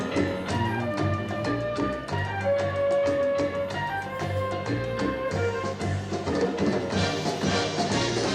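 A TV series theme plays as steady, full instrumental music with driving rhythm and a sustained melodic line, loud and continuous throughout, with no talking over it.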